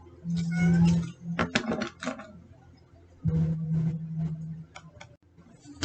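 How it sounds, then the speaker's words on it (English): A cat meows loudly and close up, two long, drawn-out calls a few seconds apart, with soft clicks and shuffling noises between them and no talking. "Sorry, had to let the cat out. Just way too distracting."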